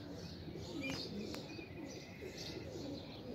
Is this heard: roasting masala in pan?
no